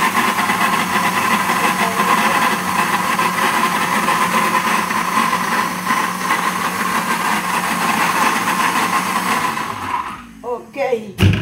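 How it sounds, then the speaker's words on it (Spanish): An electric blender runs on chilies with a loud, steady motor whir for about ten seconds, then winds down and stops near the end. "Ok, se licuan para que se le vaya la chiquilla."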